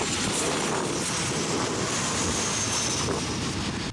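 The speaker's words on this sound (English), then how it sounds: "So if you're south of Laurel Street, you will see planes coming in really close." A low-flying airplane on approach passes over the Bankers Hill neighborhood of San Diego, a loud, continuous roaring rumble of jet engine noise that fills the whole stretch without letup.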